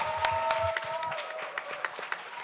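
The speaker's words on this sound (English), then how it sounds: "round of applause" Studio audience applause on a podcast set, a scattered round of clapping with sharp individual claps over a steady background, fairly close, while a sustained tone hums underneath.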